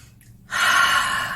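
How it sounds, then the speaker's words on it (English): A single deep, relaxed breath drawn in close to the microphone after a short quiet pause, a steady airy rush that holds evenly to the end. "Take a few nice deep breaths."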